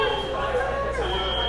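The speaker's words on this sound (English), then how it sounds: "Who set the alarm off?" Fire alarm sounding at a meetup venue in Charlotte, North Carolina, a steady tonal wail held throughout under people chattering and talking.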